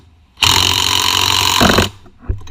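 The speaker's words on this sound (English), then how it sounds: "Should be easier to do with an impact." Impact wrench removing a 22 millimeter nut during ball joint work on a Z car: one loud, close burst of rattling hammering lasting about one and a half seconds, then a short thump.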